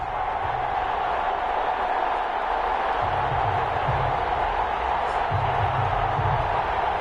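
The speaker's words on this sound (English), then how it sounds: "This crowd is ready as their guys get set to match up between the Houston Voyagers and the London Bulldogs." A football stadium crowd at a professional game between two teams roars in a continuous, distant wash of cheering and chatter, with low murmuring swells and no distinct announcer voice.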